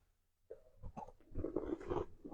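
A Golden Oreo cookie is bitten and chewed close to the mic, with a soft crunch followed by irregular moist chewing for about two seconds and no talk.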